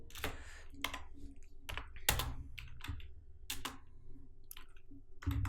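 Computer keyboard keys clicked in quick irregular bursts while typing HTML anchor tag text, close and fairly crisp, alone with no speech over it.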